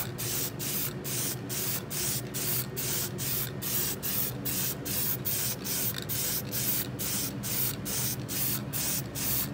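Continuous spray-can hiss pulsing in short regular bursts as car rims are spray painted red in even coats, loud and close with no talking.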